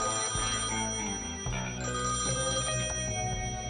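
A broken, out-of-order payphone rings in the video game Thimbleweed Park, a continuous trilling electronic bell heard close and clear over a dense backdrop of game sound.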